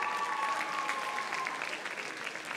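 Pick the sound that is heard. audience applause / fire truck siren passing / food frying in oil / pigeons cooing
audience applause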